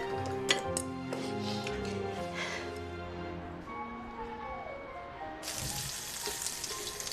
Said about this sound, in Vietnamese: Trứng chiên xong rồi đây.